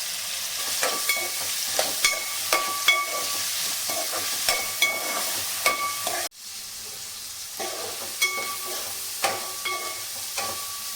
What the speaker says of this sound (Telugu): ఇప్పుడు ఇందులోకి అయితే కాలీఫ్లవర్ వేసుకుని మంచిగా ఫ్రై చేసుకుందాం